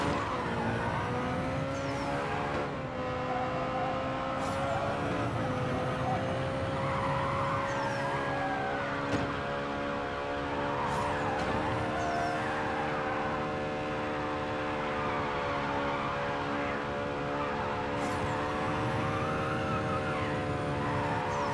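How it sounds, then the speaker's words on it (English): Car drifting and skidding in the racing video game Need for Speed No Limits: a loud, continuous engine drone with wavering pitch and tire screech runs unbroken throughout, with no talking. "Just trying to drift as much as possible."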